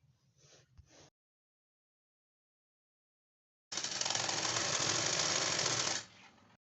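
A sewing machine stitches the pleats of a blouse, with a short burst near the start, a pause, then a steady loud run of stitching for about two seconds that stops abruptly.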